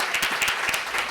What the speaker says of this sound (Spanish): Les aplaudimos también.